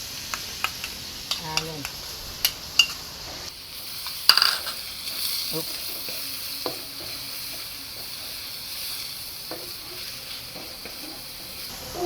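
Onions fry in a wok for pineapple fried rice with a steady, close hiss and sizzle. A few clinks and scrapes of stirring come early, then the crackle carries on evenly.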